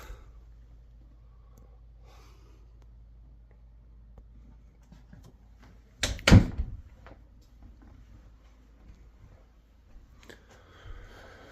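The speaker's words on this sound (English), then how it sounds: "All doors slide really well." A sliding closet door in a house being shown room by room gives a single sharp bump partway through. The room is otherwise quiet, with only a low background hum.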